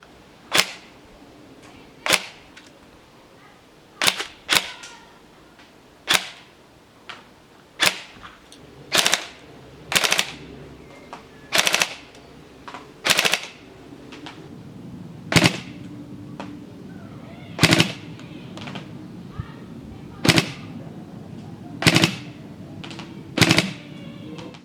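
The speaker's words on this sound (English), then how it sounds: "shots in semi-auto, and then we'll do a couple of bursts in full auto." A Tokyo Marui Recoil HK417 airsoft rifle with a high-capacity magazine fires crisp, snappy single shots at a steady, unhurried pace, each loud, close and clearly separated, heard alone without talk.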